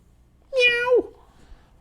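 A single drawn-out cat meow, close and clear, rising then falling over about half a second, followed by quiet room tone.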